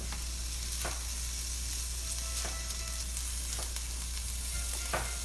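Okra frying in a skillet over medium heat, a steady, dense sizzle with a few spaced scrapes of a spatula stirring, close and continuous without speech.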